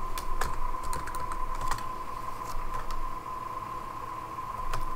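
Fingers type a command on a computer keyboard while setting up an Apache web service in an Ubuntu Docker container, a quick close run of light key clicks with a faint hum underneath and no voices.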